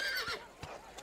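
A horse whinnies in a short, close burst with rising and falling tones, joined by a few faint hoof clops, with no talking.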